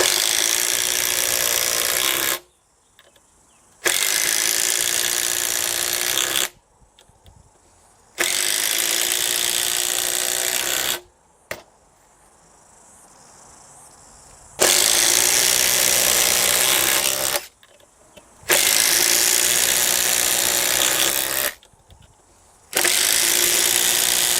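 Makita impact drivers, one made in Japan and one made in China, driving screws: loud, continuous rattling hammer bursts of several seconds each, separated by short silent pauses, five or six runs in a row, close up.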